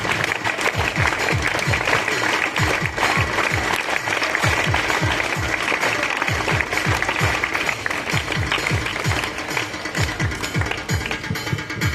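Loud, sustained applause from a crowd at the closing ceremony of a junior langadi club tournament in Telangana, with rapid overlapping claps running the full length.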